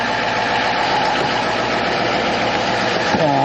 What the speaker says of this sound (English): because the exhaust kind of sounds a bit like a jet